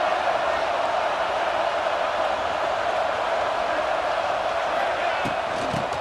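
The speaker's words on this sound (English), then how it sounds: "This crowd trying to make life miserable for this offense." Steady stadium crowd roar at Michigan in the College Football 26 video game, a dense, continuous wash of noise holding level throughout, with a few faint thuds near the end.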